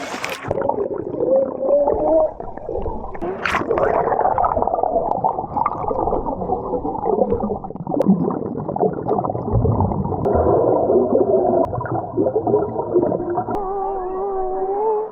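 Muffled underwater sound from a camera submerged in a swimming pool, a continuous dull rumbling wash with gurgles and faint tonal warbles, loud and close throughout.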